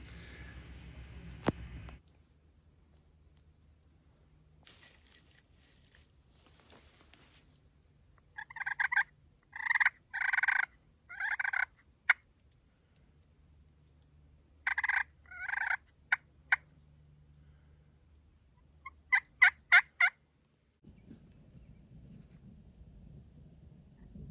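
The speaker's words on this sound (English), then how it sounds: "this bird has gobbled twice" A Merriam's wild turkey in New Mexico tall timber gobbles from a distance in several rattling bursts, two main groups of loud rapid gobbles separated by quiet stretches, plus a final shorter burst, against low background rumble.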